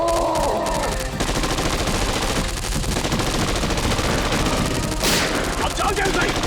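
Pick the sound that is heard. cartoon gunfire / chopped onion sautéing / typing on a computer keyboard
cartoon gunfire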